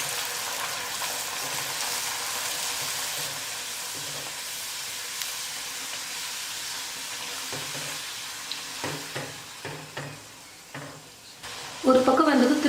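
Puris deep frying in hot oil in a kadai, a steady sizzling hiss running throughout with a few sharper crackles and bursts of bubbling near the end.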